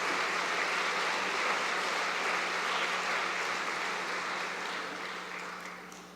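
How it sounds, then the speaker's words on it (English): Sustained, dense applause from a large convocation audience for a university jazz band, a steady wash of many hands clapping that stays full before slowly fading near the end. "One more big round of applause. Let's keep it going for the MacEwan University Jazz Band."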